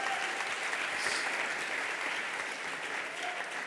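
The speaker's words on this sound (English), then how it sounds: "Just give them a round of applause" A conference audience at the DNX Global 2015 event gives a steady round of applause, dense and continuous from start to finish with no break.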